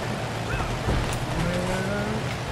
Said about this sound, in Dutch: Ik zit op een trekker.